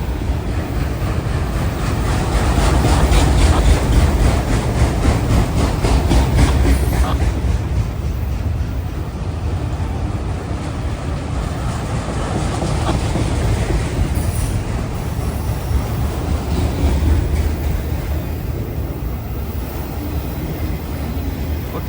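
A long freight train rolls steadily past close by, with continuous rumbling wheels, rhythmic clickety-clack and occasional metallic squeal over a full, loud roar that stays constant throughout.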